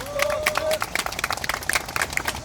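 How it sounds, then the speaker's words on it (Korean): An audience at a labor union rally gives a brief round of applause to welcome a speaker, with scattered, fairly faint claps mixed with crowd noise and a voice over the start. "박수로 모시겠습니다."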